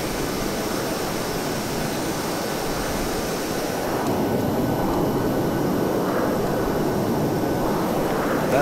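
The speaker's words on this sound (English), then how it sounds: "See a big cluster of formation flyers just about to come down onto runway" A formation of aircraft coming down to land on runway 34 right in a flight simulator, a loud continuous jet engine roar with broad rushing noise that swells slightly midway and holds steady throughout, no voices.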